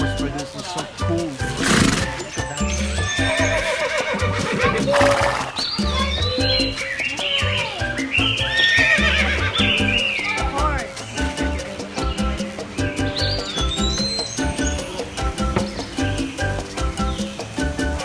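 A horse at Singapore Zoo gives repeated loud neighs and whinnies close by, mixed with bird chirps and busy background noise.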